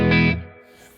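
An electric guitar through a vintage amp with the reverb turned down rings out in a single short, bright chord that cuts off quickly, leaving a faint decaying tail.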